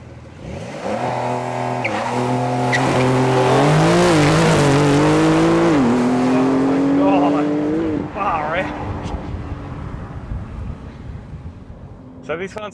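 A 2023 Porsche 911 Carrera GTS in Sport Plus launches from standstill toward 100 km/h on Michelin Pilot Sport 4S tyres, engine revving loudly through rising gear pulls while the tyres struggle for grip, with wind buffeting and a voice talking over it.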